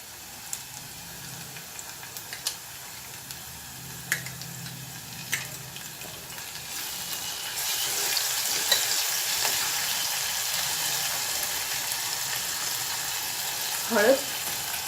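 Ginger garlic paste sizzles in a pan while mutton curry is cooked, with a few stirring clicks at first, then a steady louder frying hiss and a brief scrape near the end.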